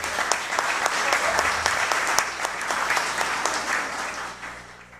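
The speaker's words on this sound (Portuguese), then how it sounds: "Palmas, por favor." Audience applause at a municipal council award ceremony: dense, sustained clapping from a crowd that fills the room for the full stretch and fades slightly near the end, with a hint of voices underneath.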